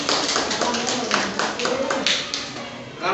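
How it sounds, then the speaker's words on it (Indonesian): An audience at a school quiz held in a studio claps together, a dense patter of hands with a few sharper individual claps standing out, loud and close. "tepuk tangan untuk kita semua"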